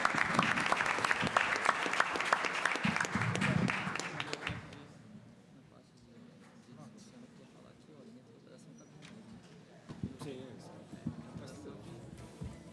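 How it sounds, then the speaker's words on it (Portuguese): Audience applause closing a panel session at an international competition-law seminar, dense and loud for about five seconds, then fading into scattered claps and low room murmur with people talking nearby. "Eu acho que a gente merece uma salva de palmas para os palestrantes."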